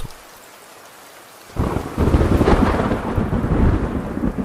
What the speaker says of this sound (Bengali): মুষলধারে বৃষ্টি হয়ে চলেছে, সাথে মাঝে মাঝে বাজের শব্দ।